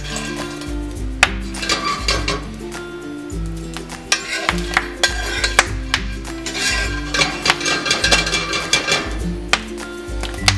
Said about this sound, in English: Stirring and shaking occasionally also prevents the kernels from burning